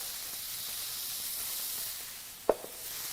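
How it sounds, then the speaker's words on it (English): Peaches sauteing in a pan with a little butter and raw sugar give a steady, soft sizzle and hiss throughout, with one brief louder crackle near the end. "Now, you want to quickly saute that together."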